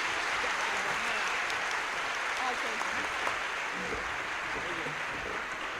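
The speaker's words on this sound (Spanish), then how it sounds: "un aplauso para el Señor" A crowd at a catechesis congress gathering breaks into sustained applause, a steady wash of clapping under some murmuring voices.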